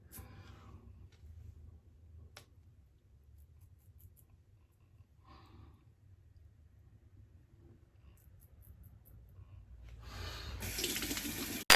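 Quiet bathroom sink during a safety-razor shave, with faint scattered clicks and splashes, then a faucet opens near the end and cold water runs loudly into the basin.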